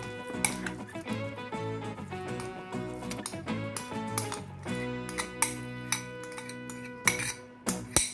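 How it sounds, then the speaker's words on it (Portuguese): Tapioca cake batter for a lactose-free cake being mixed slowly in a bowl, a utensil clinking and scraping against the dish in irregular taps over soft background music. "E misturar lentamente a massa"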